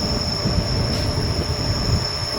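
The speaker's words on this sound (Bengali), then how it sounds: "দেওঘর থেকে ট্রেন ছেড়ে দিয়েছে" The Deoghar–Howrah Mayurakshi Express pulls out of Deoghar on a hilly Jharkhand line, a steady close rumble of rolling railcars with a sustained high wheel squeal running throughout and no voices.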